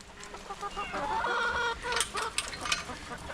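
Several chickens cluck and murmur nearby in short, overlapping calls, with a few louder squawks toward the end.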